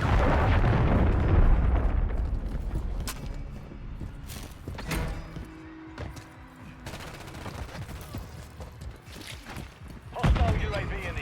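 Cruise missile explosion in a first-person shooter video game: a heavy booming blast opens, followed by scattered gunfire cracks and rumble, with another loud burst near the end.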